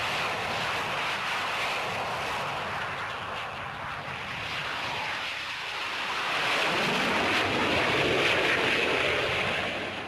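Soviet MiG-17 jet fighter passing, a steady loud roaring jet engine rush that swells and deepens in the latter half, broad and continuous with no talk.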